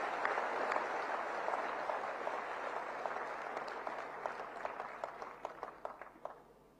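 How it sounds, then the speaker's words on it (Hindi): Applause from an audience at a public address by the Haryana chief minister in Panchkula, a steady wash of many clapping hands that thins toward the end into scattered individual claps before fading out. "जोरदार तालियां बजा करके"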